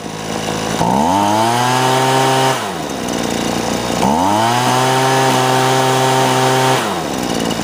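A Husqvarna 125BV leaf blower engine running loud and close, idling smoothly and then revving up twice to a sustained high whine before dropping back to idle each time.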